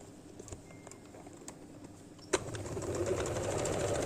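Sewing machine stitching cotton flares onto a baby frock, a few faint clicks at first, then the motor running up into a steady whirring hum that grows louder toward the end.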